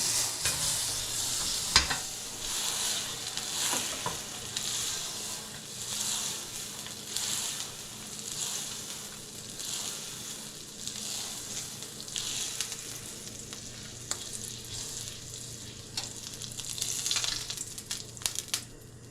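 Butter sizzles steadily in a hot pan, ready for steak, making a continuous broadband crackle with small pops and one sharp clatter near the start, with no talking.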